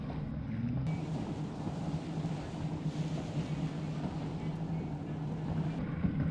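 Powerboats racing at up to 90 miles an hour around an oval course at Cowes, a steady engine drone mixed with wind buffeting the microphone and water rush, with a commentator talking throughout.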